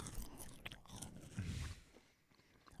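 Crunchy stuffing-flavored potato chips from Target are chewed right up against a microphone, giving close, loud, irregular crunching and biting through the whole stretch with no talking.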